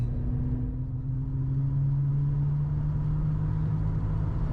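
A 90s Holden Commodore VS ute with 500,000 kilometres on it, driving along with a steady low engine drone and road rumble, the tone rising gradually as it pulls, heard from inside the cabin.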